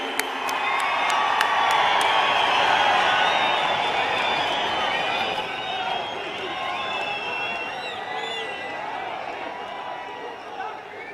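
A large crowd at a Jammu and Kashmir event applauds and cheers for the Prime Minister. The clapping and whooping is loud and sustained at first, then gradually thins into a softer, steady roar.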